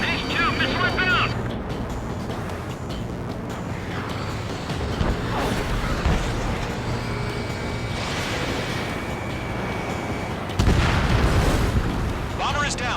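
Missile explosions bring down a bomber in the flight combat game Ace Combat 7, heavy booms and rumbling blasts rolling under a steady engine roar, with a louder burst near the end.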